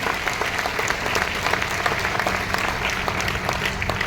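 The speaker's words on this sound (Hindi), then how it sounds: "एक बार जोरदार ताली बजाइए" Dense, steady applause from an audience at a direct-selling business gathering in Banaras, with continuous clapping filling the room from start to finish.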